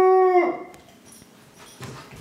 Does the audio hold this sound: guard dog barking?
yes